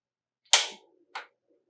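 A Coleman butane camp stove lights with a sharp, loud snap, then a shorter, softer second snap about half a second later, close up with no talking.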